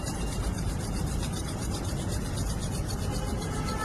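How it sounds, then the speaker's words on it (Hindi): Palms of the hands rubbed briskly together during a yoga session to warm them, a steady dry swishing friction that continues evenly throughout, close and alone with no voices. "हाथों को अच्छे से रब करें"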